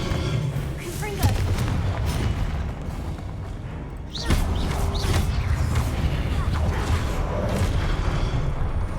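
The Confringo spell explodes in Hogwarts Legacy with a sudden booming burst midway through a busy, loud game soundscape, with a voice speaking around it.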